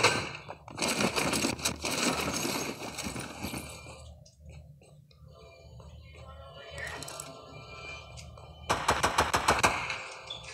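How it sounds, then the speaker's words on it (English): Rapid bursts of gunfire ring out in a Fortnite Battle Royale match, most likely from a pistol, first as dense volleys near the start and again as a tight cluster of shots toward the end, with quieter stretches between. "Somebody has a pistol somewhere."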